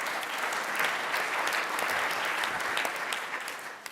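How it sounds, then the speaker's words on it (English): Audience applause fills a conference hall at a Michigan policy event, a steady dense wash of many hands clapping that holds for about four seconds before tapering slightly at the end, with no voices over it. "I think that's something to clap for."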